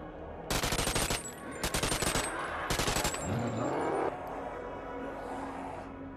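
Three rapid bursts of automatic gunfire from a box weapon in the BoneLab video game, loud and close with a short gap between each, followed by a lingering mechanical whir.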